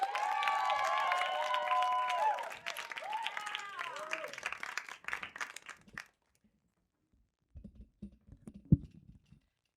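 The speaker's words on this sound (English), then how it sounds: "Please give a round of applause for Ray!" Audience applause for a comedian at a comedy special, a steady wash of clapping for about five seconds that fades out, followed by quieter scattered sounds and brief muffled activity.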